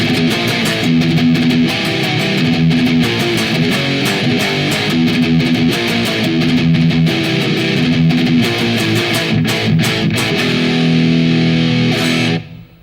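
A distorted metal electric guitar with scooped mids, playing a continuous chugging riff with palm-muted rhythm for about twelve seconds before cutting off.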